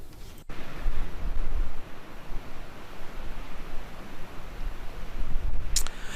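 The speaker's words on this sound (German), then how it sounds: "es wehte immer noch ein strammer Wind" Strong wind at a seaside campsite in Spain after rain, blowing as a loud, steady rushing noise with gusty swells and a brief rustle near the end.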